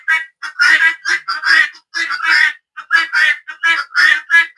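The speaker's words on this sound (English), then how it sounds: "they are making the noise" Guinea fowl call close by in a rapid, repeated series of harsh, rasping squawks, about a dozen bursts in quick rhythm with short gaps between them.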